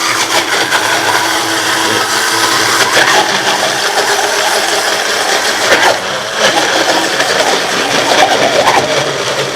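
A multi-purpose bullet blender runs continuously, loud and close, with a steady high whir and a gritty, rattling grinding texture. No one speaks.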